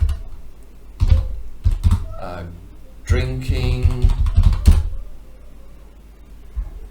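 Bursts of typing on a computer keyboard, close and clicky, in short uneven runs separated by pauses, with some faint background noise between them.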